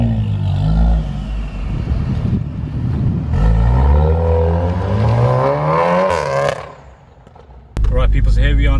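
A tuned 2018 VW Golf R 7.5 covered in carbon fibre accelerates hard, engine rising through rpm with loud whooshing turbo sounds and a sharp pop, heard from close by.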